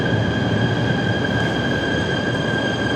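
Metro train in Bursa, Türkiye, heard from inside: a steady, loud rumble of wheels on rail with a sustained high squeal, continuous and without talk.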